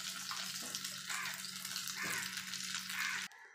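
Egg chops shallow-fry in a little oil, producing a continuous bubbling sizzle that stays even and fairly close, then cuts off abruptly near the end.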